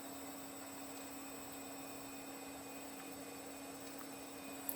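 A Power Macintosh G3 computer runs with a faint, steady electrical hum and soft hiss, unchanging throughout, with one tiny click at the end.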